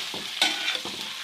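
Chopped onions fry in a pan over medium flame, giving a steady close sizzle with a few soft stirring scrapes through the short moment and no talk.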